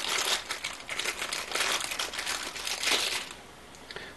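Crinkly plastic packaging rustles and crunches as an LED arcade button from a DIY controls kit is pulled free, a steady close crackle for about three seconds that then fades.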